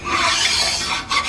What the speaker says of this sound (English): Come across here with a file just to get any kind of nicks and burrs out of the